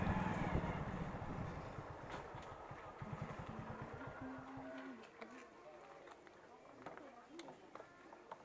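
A motorcycle engine rumbles steadily as the bike slows to a stop, and the throbbing fades out about halfway through. A person talks over the engine throughout.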